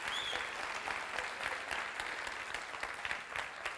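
A church congregation applauds during a sermon, producing a continuous wash of many hands clapping with scattered sharper claps, fairly distant and even, with no speech over it.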